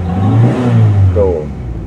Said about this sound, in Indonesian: Kita lihat indikatornya, kita gas lagi ya.